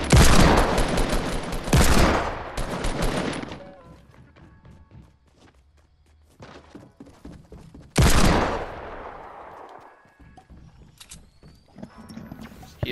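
Desert Eagle hand cannon fire in the Fortnite Battle Royale video game, two bursts of heavy booming shots separated by a quieter stretch, each loud and close with lingering decay.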